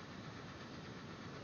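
A neighbour's moped or motorcycle engine runs steadily at a low rumble in the background, continuous and fairly faint, with no voices.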